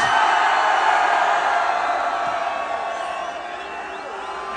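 Festival crowd at a Rocamusic Festival concert in Istanbul cheering and shouting in response to a performer's call, a dense, steady roar of many voices that fades slightly over a few seconds.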